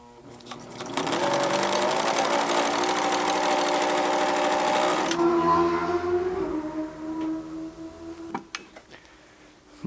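A Pfaff Hobbymatic sewing machine with a rubbing mechanical fault runs loudly and steadily for several seconds, then slows with a grinding, droning hum before stopping, alone without speech.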